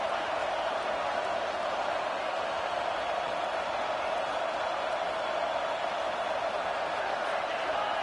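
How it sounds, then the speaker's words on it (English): Steady, dense roar of a stadium crowd in a college football video game, a continuous wash of cheering noise with no breaks. "And with this place rocking, the crowd forces a false start."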